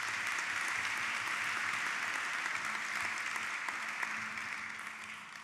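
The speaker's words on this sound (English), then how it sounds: "So let's give all of them a round of applause as well." An audience at a 2018 State of the County gathering gives a steady round of applause, dense and sustained for several seconds before tapering slightly at the end.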